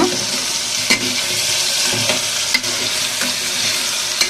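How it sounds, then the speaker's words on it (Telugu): Continuous sizzling of chana dal frying in a pan, with a few sharp scraping knocks from stirring spaced through it. "శనగపప్పు అయితే కొంచెం ఫ్రై చేసుకుంటారు"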